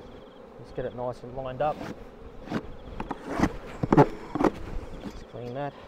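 Honey bees buzz in a steady, faint drone around an open hive box while a beekeeper talks over the hum.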